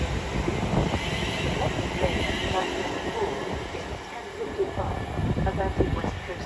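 A Class 350 electric multiple unit, 350-249, moves through Milton Keynes Central station, a continuous rumbling rail noise with clattering wheel sounds, moderately loud, mixed with faint background voices.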